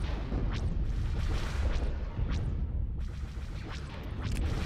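Heavy laser cannons fire in a video game space battle between capital ships, a continuous roar of booming blasts with repeated rising whooshing streaks, loud and dense throughout.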